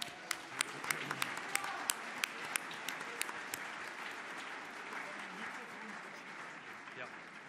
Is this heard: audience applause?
yes